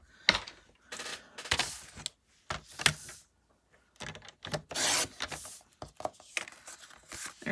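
Paper trimmed off the edge of a stamped greeting card makes bursts of close, scratchy cutting and rubbing, separated by short quiet pauses.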